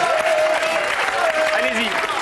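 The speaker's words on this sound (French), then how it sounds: "Allez, on les applaudit." Studio audience applause on a French comedy game show, steady and loud throughout, with an excited voice talking over it.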